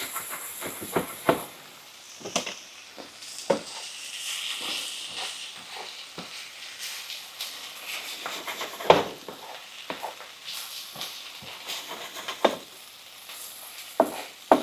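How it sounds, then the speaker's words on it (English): Tomato paste being sautéed in a lightly oiled pan, a soft continuous sizzle broken by repeated sharp scrapes and knocks of a utensil stirring against the pan, with no talking. "Sauteing, and the process of making tomato paste takes a while time."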